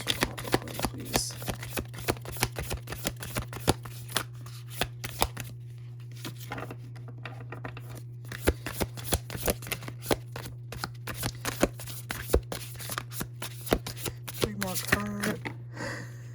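Tarot cards shuffled for a reading, a steady run of soft riffling and slapping bursts that continues throughout the clip, heard up close over a constant low hum.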